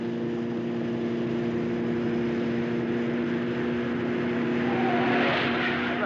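A 1950s car accelerates at high speed along an empty road at night, its engine a steady, loud drone with a rising whoosh near the end.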